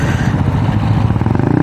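A Rusi Passion scooter-style motorcycle with a GY6 engine runs close and loud, a throaty low engine drone that builds into a faster pulsing beat toward the end as the throttle opens, with no talking.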